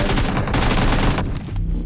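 Rapid gunfire from a video game, loud and dense for most of the stretch, a steady rattle of shots that briefly thins near the end before resuming.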